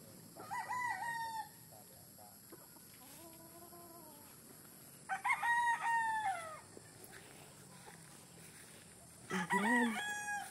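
Roosters crow three times, spaced apart, loud and fairly close, with a softer drawn-out call between them and a quiet outdoor background.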